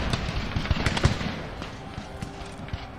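Musket volleys from light infantry in the Napoleon Total War video game, a steady crackle of overlapping shots with several sharper, louder reports standing out, distant battle rumble underneath.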